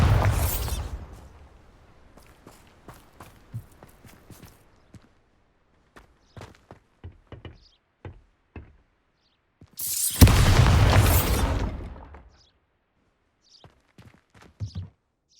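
Bombarda blasting spell in the Hogwarts Legacy video game: a loud explosive burst with a rumbling roar about two seconds long, surrounded by sparse footsteps and small thuds before and after, with brief sharp pops near the end.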